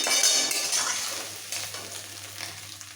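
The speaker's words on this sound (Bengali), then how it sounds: "ভাজা ডিমগুলো তুলে নিচ্ছি" Fried eggs crackle in oil in a wok, a bright close sizzle that is loudest at first and then eases while the food is lifted out with soft scraping.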